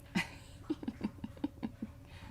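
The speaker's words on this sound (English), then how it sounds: "Not sure if you guys can hear the dog drinking downstairs." A dog laps water downstairs in a house, a run of soft rhythmic wet laps about five or six per second, faint and slightly distant in a quiet room.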